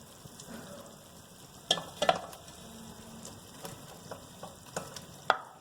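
Tomatoes tipped into a sizzling mutton biryani masala of salt and spices in a pan, giving a steady close frying hiss broken by a few sharp spatters and stirring knocks, with no talk.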